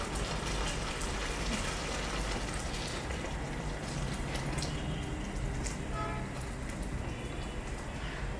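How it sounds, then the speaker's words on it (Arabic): Water in a pot of pigeons simmering over a medium flame on a kitchen stove, giving a steady, dense bubbling hiss with fine crackles that stays constant throughout, with no voices. "الميه بتغلي كده على طول"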